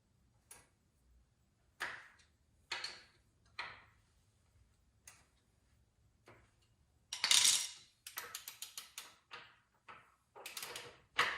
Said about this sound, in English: Okay, we're going to torque the front axle.